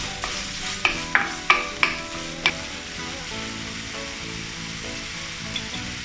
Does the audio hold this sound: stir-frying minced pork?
yes